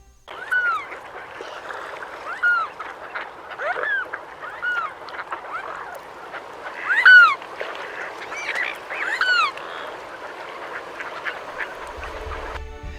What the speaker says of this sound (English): Despite its name, the Mute Swan does produce sounds.